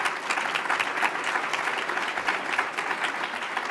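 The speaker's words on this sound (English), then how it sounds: "Almost finally, big applause for event organizers Kristen Oliver of NOMA and Charlotte Robinso" Audience applause for the event organizers at a northern leaders' political debate in Thunder Bay: steady, dense clapping from a sizeable crowd in a hall, fairly distant, with no talk over it.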